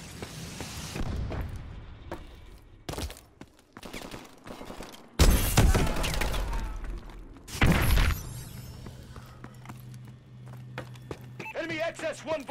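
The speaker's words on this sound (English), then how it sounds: "Suppressing fire." Bursts of suppressing gunfire in the Call of Duty: Advanced Warfare video game, loud rattling volleys broken by short gaps, with in-game voices calling out between shots.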